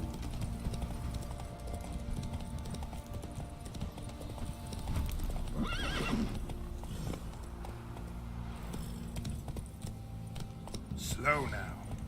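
Roach the horse in The Witcher 3 game, with rhythmic hoofbeat clip-clops at moderate volume and a brief neigh partway through and again near the end, with a voice speaking and background game music.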